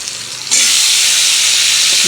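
Thinly sliced potatoes, onion and nigella seeds frying in hot oil in a home kitchen, with a loud, steady sizzle that jumps up sharply after a quieter hiss, as if fresh ingredients have just hit the pan, then continues dense and unbroken.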